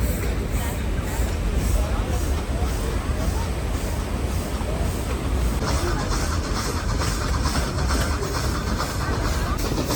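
Ooty toy train crossing a bridge, with a steady, loud rumble and rattle of rail cars running throughout, growing slightly brighter and busier midway.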